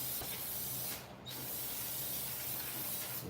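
Brake cleaner sprays onto a new brake rotor to strip off grease, a steady close hiss lasting a few seconds with one short pause.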